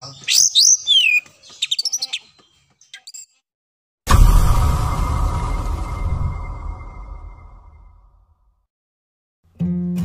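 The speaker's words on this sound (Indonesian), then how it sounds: "burung kacer itu kerjaannya ngeriwik terus." Oriental magpie-robin (kacer) giving quick chattering chirps in short bursts, then falling silent as a loud broadband rushing noise takes over and fades.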